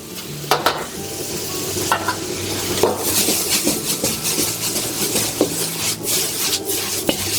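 Soaked cloud ear mushrooms and sliced roast pork stir-fry in a hot pan, with a loud, continuous sizzle broken by repeated scraping and tossing strokes of a spatula, close up throughout.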